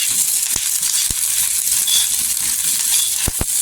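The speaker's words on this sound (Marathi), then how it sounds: "इथे बघा तेल टाकल्यामुळे ना लवकर मिरची भाजते" Green chillies and garlic fry in oil on a hot pan, giving a steady close hiss of sizzling with a few sharp pops and spatters scattered through, no voices.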